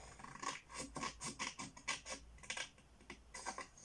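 Scissors snip through paper to cut out a small triangle, a quiet run of rapid, uneven crisp cuts and rasps close by, with no talking.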